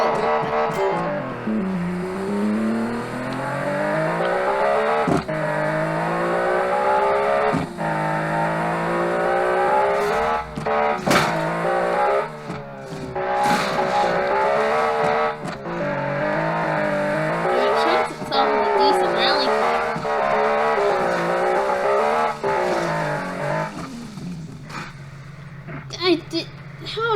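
A car in the video game Automation struggling around an off-road course, its engine droning and shifting pitch steadily throughout, loud and continuous with brief clicks near the end.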